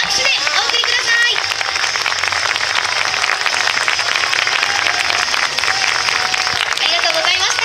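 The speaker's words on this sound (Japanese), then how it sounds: "大きな拍手でお送りください。" Audience applause at an outdoor hometown send-off stage event for Chiba Lotte Marines players as they leave the stage, dense steady clapping with crowd noise and some voices throughout.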